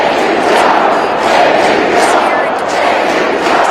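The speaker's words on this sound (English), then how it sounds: "We hear the crowd chanting there." A large crowd at a political rally chanting and shouting together, a dense, continuous roar of voices filling the space without pause.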